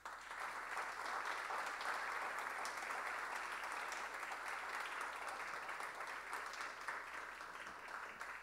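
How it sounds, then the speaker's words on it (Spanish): Sustained applause from an audience at a state music composition award ceremony, a steady dense wash of clapping holding at even strength for the whole stretch with no voices over it. "Fuerte el aplauso."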